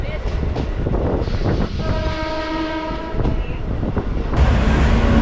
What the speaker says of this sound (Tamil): இப்போ வில்லிவாக்கத்துக்கு அடுத்ததாக ட்ரெயின் நிற்கிறதாங்க கொரட்டூர் ரயில்வே ஸ்டேஷன்.